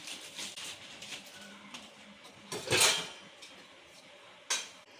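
Semolina for kesari being stirred and dry-roasted in a pan, with soft scraping and light metallic clinks and a couple of sharper knocks against the pan, close and fairly quiet, with no speech.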